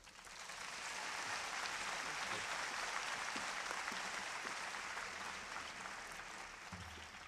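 A large conference audience applauds warmly to welcome Melinda French Gates at a plenary session, a dense, even wash of clapping that swells and holds for several seconds before tapering off.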